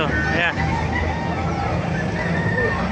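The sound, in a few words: roosters and chickens at a poultry market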